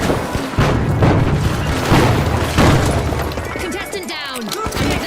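A grenade explodes in the video game The Finals, giving a loud booming blast followed by crashing debris and rumbling, all close and dominant.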